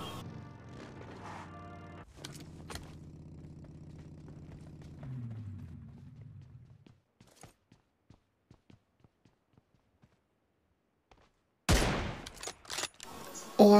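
Gunfire crackles in the BGMI battle royale game, starting as a run of sharp shots and then giving way to quieter separate pops. A louder, dense burst of shots lands near the end, with no talk over it.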